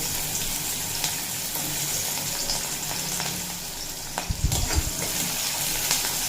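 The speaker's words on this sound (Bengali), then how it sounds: "কালো জিরে ভাজা হয়ে এলে দিয়ে দেব কুচিয়ে রাখা পেঁয়াজ" Nigella seeds and chopped onions sizzle in hot oil left from frying bitter gourd. The crackle is steady and close, with a brief thicker burst of frying near the end.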